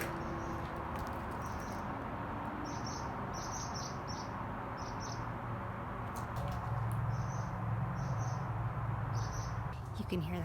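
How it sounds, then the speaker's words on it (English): Rhythmic high-pitched bird chirps repeat in quick clusters over a steady background rumble, moderately close, with faint talking underneath. "You can hear that rhythmic chirp."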